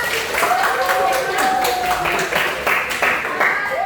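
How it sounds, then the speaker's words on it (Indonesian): A class of schoolchildren claps hands together, a steady run of quick, fairly loud claps mixed with voices throughout. "Tepuk tangan dulu."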